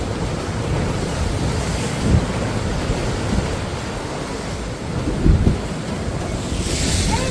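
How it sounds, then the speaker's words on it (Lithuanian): Sea waves roll in along the Madeira coast, a steady broadband wash of surf with wind buffeting the microphone and two brief swells of louder breaking water, heard alone without voices. "Pareina bangos."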